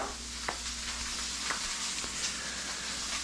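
Chicken breast frying in oil in a pan gives a steady, dense sizzle with small crackles and pops, alone and at moderate level throughout.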